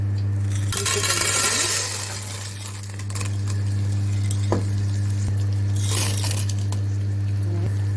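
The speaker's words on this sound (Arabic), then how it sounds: "هنشوح المكرونه كده كويس جدا لحد ما توصل للون الذهبي" Pasta sautés in ghee in a Tefal pot, sizzling loudly and steadily as a spoon stirs through it, with bright scraping and clinking bursts over a constant low hum.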